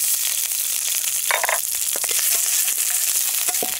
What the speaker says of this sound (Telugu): ఒక సగం చెంచా నూనె వేసుకుని పచ్చిమిరపకాయలు కూడా వేయించుకుందాం.